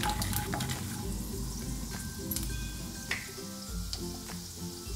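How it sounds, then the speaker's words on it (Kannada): Mustard seeds and chana dal splutter and sizzle in hot oil with a pinch of hing and turmeric, a close, continuous crackling fry with sharp pops and stirring scrapes throughout. "ನೋಡಿ, ಸಾಸಿವೆ ಈಗ ಚಿಟ್ಕುಟ್ಟಿದ್ದಾಗಿದೆ"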